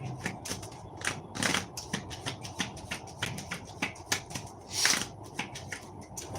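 Tarot cards shuffled up close in a run of crisp riffling snaps and soft taps, irregular bursts with a louder flurry near the end, no speech.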